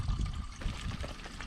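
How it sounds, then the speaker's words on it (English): Water pours steadily into a small water tank, a soft, continuous trickle with a low rumbling wash that stays even from start to finish, with no talking. "Don't forget to fill up my little water tank."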